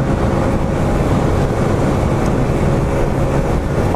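Tao Tao 50cc scooter riding at around 50 mph, a dense steady roar of engine and rushing wind buffeting close to the rider, loud and unbroken.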